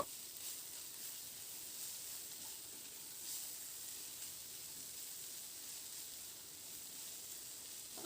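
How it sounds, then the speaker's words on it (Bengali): Brahmi greens frying with crushed peanuts and sugar in a pan over a medium flame, giving a steady soft hiss and sizzle that runs evenly throughout without a break. "এবার বাদাম আর চিনিটা দিয়ে আরও কয়েক মিনিট সময় ধরে মিডিয়াম ফ্লেমে শাকের সঙ্গে একটু ভাজা ভাজা করে নেব"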